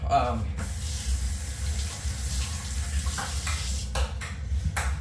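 Running tap water splashes steadily in a sink while a fillet knife used for filleting bass is rinsed under it, a close continuous wash with a few brief clinks near the end.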